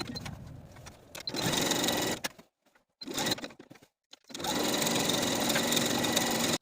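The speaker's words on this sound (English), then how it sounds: "Pivot our stitching and continue stitching with a 5/8 inch seam allowance to the bottom hem of the pant." A sewing machine stitches the side seam of a pant with a 5/8 inch seam allowance, whirring in three steady runs broken by short pauses, the last and longest run continuing to the end, with no voices.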